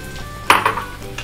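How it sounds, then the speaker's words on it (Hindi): Three medium sliced onions hit hot oil with cumin, giving a sudden loud sizzle burst after a quiet start, then a softer crackle with a light utensil clink. "प्याज को हमें अच्छे से सौते कर लेना है 1-2 मिनट के लिए।"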